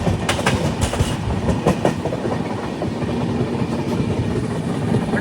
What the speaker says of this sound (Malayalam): കേരളത്തിലെ ഈ ട്രെയിനിൻ്റെ ആദ്യത്തെ സ്റ്റോപ്പായ പാലക്കാട് ജംഗ്ഷൻ സ്റ്റേഷനിലേക്ക് ഇതാ ട്രെയിൻ എത്തുകയാണ്